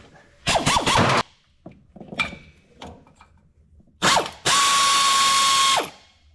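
An air ratchet works loose a bolt on an Allis Chalmers road grader engine, with several loud, close bursts of whirring ratcheting separated by quieter clunks, ending in one long sustained whine.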